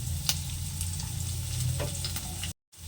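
Garlic cloves go into a hot pan of oil with chopped onion, sizzling and frying steadily for a few seconds, with light stirring clicks over the continuous crackle, then a brief dropout near the end.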